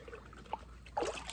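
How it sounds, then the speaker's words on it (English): Water poured into chicken buckets outdoors, heard as a faint trickle and splash in short bursts, with a stronger pour toward the end. "pour some water in some of these chicken buckets"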